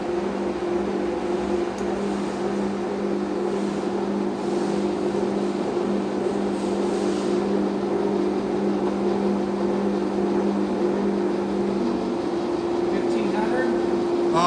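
A gap bed engine lathe spindle runs at 467 RPM, a steady, even mechanical hum that holds unchanged throughout.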